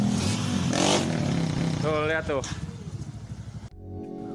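A matic scooter with a loud aftermarket exhaust revs in a rough, rising drone, then cuts off abruptly near the end. People talk over it close by.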